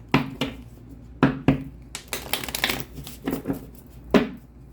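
A deck of tarot cards is shuffled in several quick riffling bursts, close by, with soft papery flutters and small pauses between them.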